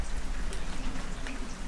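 Rain falls steadily, a close, continuous wash of pattering drops with occasional louder splats, no one speaking.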